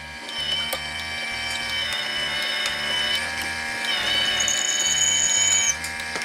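A trimmer cuts down a 5.56 brass case for 300 Blackout, making a steady, close mechanical whine with a faint rhythmic chatter underneath, and a higher tone swells near the end before stopping.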